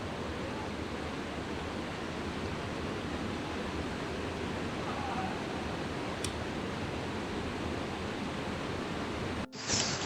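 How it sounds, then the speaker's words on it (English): Heavy water pouring down outdoors at a motorcycle rally campsite, a steady broadband roar that holds constant and fairly loud before cutting out abruptly at the end. "That's a lot of water coming down."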